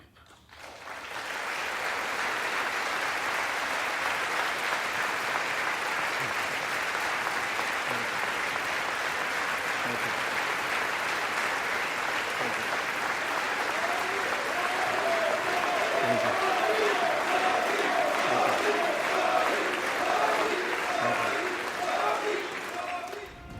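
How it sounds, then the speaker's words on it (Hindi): A standing ovation in the US Congress for India's Prime Minister Modi: dense, sustained applause from a large chamber crowd that runs without pause, with scattered cheering voices rising in the second half. "जब अपना भाषण खत्म किया तो पूरी संसद उनके सम्मान में खड़ी हो गई और तालियों से उनका अभिवादन किया।"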